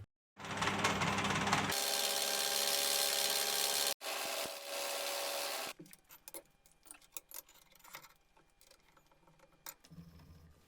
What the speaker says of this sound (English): Plasma cutter wouldn't get through this, so I had to resort to the angle grinder.